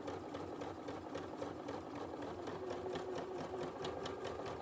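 A sewing machine fitted with a bouncing darning foot stitches fabric held in one place, a steady rapid mechanical whir and rattle running without pause at moderate distance.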